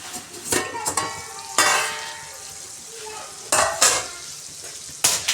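Stuffed brinjals cooking under a lid in a pan, a steady close sizzle and frying hiss with a few louder bursts of spattering and occasional clinks of utensils.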